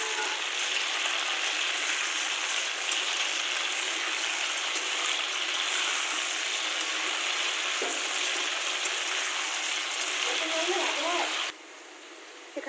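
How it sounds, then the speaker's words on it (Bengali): Chicken pieces frying in a pan for biryani, a dense, loud, rain-like sizzle running steadily and close before dropping off abruptly near the end. "সেই চিকেনগুলো আর এখন আমি ভেজে নিচ্ছি প্রথমে।"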